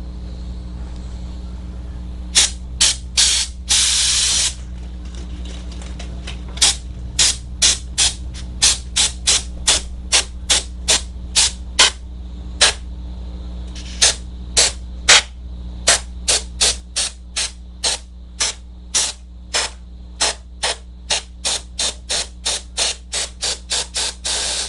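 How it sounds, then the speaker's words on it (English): Compressed-air spray blowing dust out of an old General Electric 15XB black-and-white TV, about forty sharp hissing bursts in uneven quick succession over a low steady hum. One longer blast comes near the start. "Some of it's a little dusty, so I suppose we'll spray it out."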